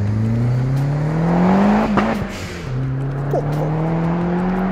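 A tuned Fiat Uno Turbo ie of over 200 hp revving hard and accelerating, its engine pitch climbing, dipping on a gear change and rising again, loud and close, with a brief exclamation from a voice.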